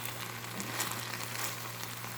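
Fish fries uncovered in oil in a pan, giving a soft, steady sizzling hiss with faint crackles and a low background hum, fairly quiet and without talk.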